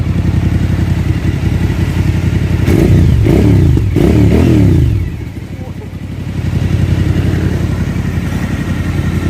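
A Suzuki V-Strom 1000 motorcycle fitted with a Yoshimura exhaust revs hard in several sharp, loud bursts over a steady idle, then drops back briefly before settling into idle again.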